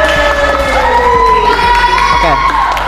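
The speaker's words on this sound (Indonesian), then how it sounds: "Tepuk tangan dong." Loud crowd of students cheering and shouting for a newly elected OSIS student council president at a school election, a sustained mix of whoops and raised voices with some talk underneath.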